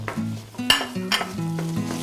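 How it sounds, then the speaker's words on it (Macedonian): Minced veal sizzles in a frying pan while a utensil stirs it constantly. Scraping squeals and sharp clanks come in quick bursts over the hiss, near and fairly loud, with no talking. "Ќе пржиме со постојано мешање, бидејќи треба месото да се иситне"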